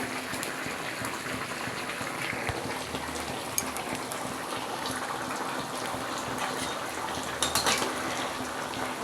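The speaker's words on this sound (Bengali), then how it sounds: "এই যে ফুটছে তরকারিটা" A pan of spicy Rupsa fish curry bubbles and sizzles steadily, with a few light clinks of a utensil near the end.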